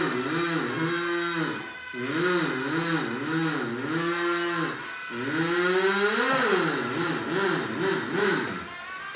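A loud engine on the El Toro Loco monster truck revs hard through a wheelie at a Monster Jam arena show in Sydney, its pitch wavering up and down in long rising-and-falling sweeps, close and continuous.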